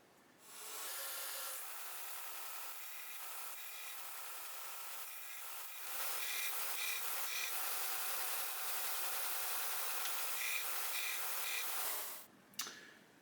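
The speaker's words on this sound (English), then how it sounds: "I'll use the belt sander to get the rest of the material off" A belt sander grinds wood off a chain link cut from a 2x4, a loud close continuous rasping whir that holds steady with slight shifts in pitch as pressure changes, then stops near the end.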